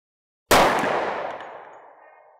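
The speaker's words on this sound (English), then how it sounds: "gonna offhand shoot it at 50 meters" A single 10mm Auto pistol shot fired offhand at a 50-meter range: one sharp, loud crack with an abrupt onset, followed by a long ringing decay and echo lasting about two seconds, with no talking.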